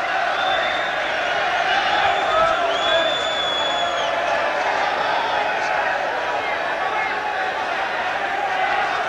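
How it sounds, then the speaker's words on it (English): Boxing crowd on their feet at a live bout, a dense, steady roar of cheering and whoops filling the whole clip, with a commentator's voice faintly blended in. "The crowd on their feet."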